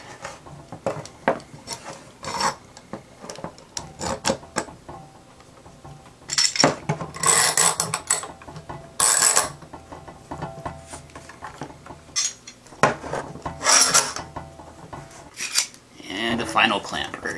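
Metal clamps are worked onto a glued wooden slingshot blank with scattered clicks, scrapes and bursts of metallic ratcheting, some loud and close, with quiet gaps between.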